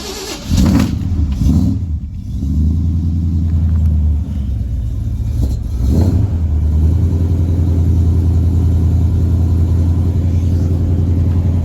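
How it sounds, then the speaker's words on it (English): A Jasper Blueprint 351 V8, paired with a T18/T19 four-speed, is cold-started after sitting four days: a few seconds of cranking, then it catches and settles into a loud, steady, deep rumbling idle close by, with no talking. "Let's get a little cold start."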